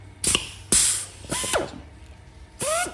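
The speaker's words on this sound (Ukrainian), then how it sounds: "Нажимаємо кнопочку і викручується гайка." An AIRPOWER 4 GOEBEL pneumohydraulic threaded rivet tool runs in reverse to unscrew a nut, giving several short, loud bursts of whirring and ratcheting mechanism noise with gaps between them.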